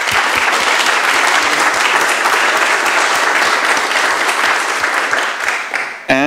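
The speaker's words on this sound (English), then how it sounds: "Let's hear a round of applause for everyone who worked on that first." Loud, steady applause from an audience at a Nextcloud design talk, with dense rapid clapping holding for about six seconds and fading slightly at the end.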